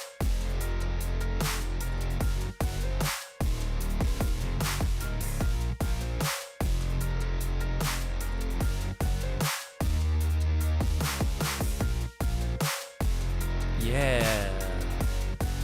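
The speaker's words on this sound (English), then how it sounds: "Played these on my little keyboard" Song parts played together on a small electronic keyboard and a real guitar, with full, steady, loud layered chords and notes and brief drops to silence between phrases.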